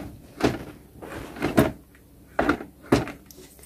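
Drawers of a storage unit holding toy figure sets are slid and bumped, four separate wooden knocks and scrapes spaced about a second apart, close and fairly loud with no talking.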